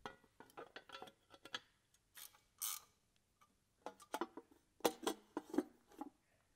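Guards being mounted on a DESMI GP66 ROTAN gear pump during an overhaul: scattered metallic clicks, clinks and ratcheting taps from hand tools and fittings, close and fairly quiet, with short pauses between.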